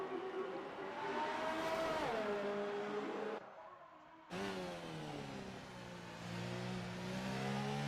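A Formula 1 car at the Singapore Grand Prix in a racing game, its engine screaming at high revs, dipping as it shifts down, briefly cutting out, then climbing again through the gears.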